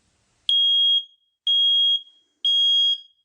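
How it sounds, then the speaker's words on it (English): A household smoke alarm sounds its fire-warning pattern: three loud, sharp, high-pitched beeps of equal length in a steady rhythm, each about half a second long and separated by short silences, heard alone and up close. "The continuous 3 beeps throughout the house means there's smoke or fire."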